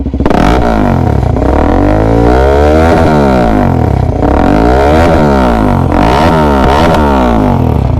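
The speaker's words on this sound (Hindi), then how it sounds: "तो ये हो गई इसके एग्जॉस्ट के साथ की आवाज़।" A decatted motorcycle exhaust, with the catalytic converter removed, revs up and down repeatedly. It makes a loud, close, raspy engine note that keeps rising and falling in pitch throughout.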